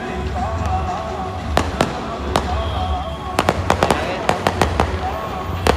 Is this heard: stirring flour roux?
no